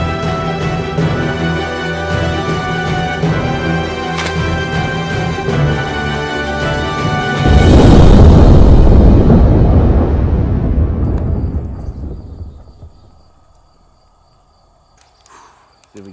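A grenade goes off with a loud, deep blast that rolls out into a long rumbling decay and fades almost to silence, breaking in after steady background sound.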